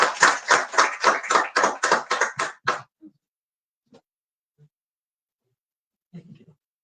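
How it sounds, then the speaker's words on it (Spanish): An audience at a book presentation claps briefly, about ten distinct claps in an even rhythm that stop after three seconds, followed by a few faint stray sounds. "Démosle un fuerte aplauso a él, por favor."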